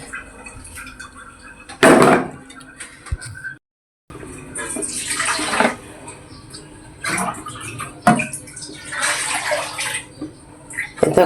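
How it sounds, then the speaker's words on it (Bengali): Water is poured in several bursts into a pot of tripe, with splashing gushes separated by pauses and a brief silent gap, fairly close and loud. "আমি একটু পানি দিব পরিমাণ মতন।"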